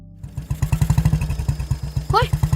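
Motorcycle engine putting along at a steady, rapid chugging rhythm, close and fairly loud, with a voice speaking over it.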